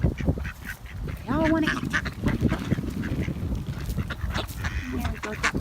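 Canada geese and ducks call in a busy cluster, with honks and quacks rising over constant low flock noise while people talk nearby.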